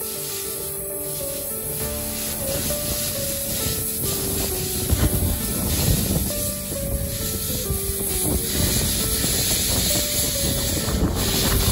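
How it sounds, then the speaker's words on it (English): A locomotive on the Zig Zag Railway rumbles along the rails with steady grinding and rubbing noise and a faint tonal whine, loud and continuous throughout, as it runs around its train. "The loco here decouples and then goes around to the other side to keep going."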